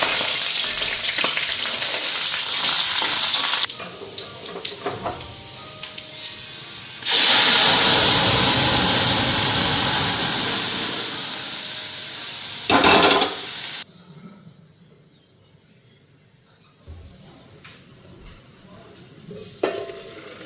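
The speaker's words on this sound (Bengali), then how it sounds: "এখন আলুগুলি ভাজুম, বেগুনটা ভাজুম।" Potatoes and eggplant fry in hot oil in a home kitchen, a loud sustained sizzle swelling and fading between stretches of clatter and quieter gaps, with voices at times.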